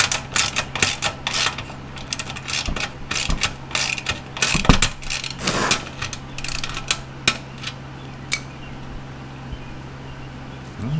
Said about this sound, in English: So you get this last little bracket down here tightened up.